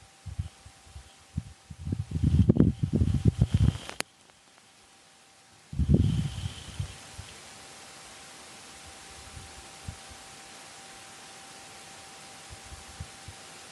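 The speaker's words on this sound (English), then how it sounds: "resulting in the first ever audio recording of a dust devil on Mars" A Martian dust devil passes over the Perseverance rover, caught by its SuperCam microphone as two faint rough bursts of wind buffeting, separated by a brief lull, then fading into a low hiss.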